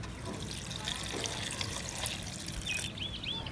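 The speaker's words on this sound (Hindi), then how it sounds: "तकरीबन 1 गिलास पानी का ऐड करेंगे" About one glass of water is poured into a jug already holding mint leaves, a steady trickling pour close by, with faint outdoor village ambience and a few high bird chirps near the end.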